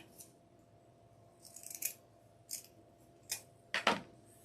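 Scissors snip through ribbon toward the wire while shaping a pointed end for a poinsettia, giving five short, crisp cuts spaced unevenly, the last two louder and closer together, with no talk.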